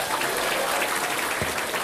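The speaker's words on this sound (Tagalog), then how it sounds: "Palakpak!" An audience at a closing session applauding together: dense, continuous clapping that fills the space evenly, steady and moderately loud throughout, with no talking.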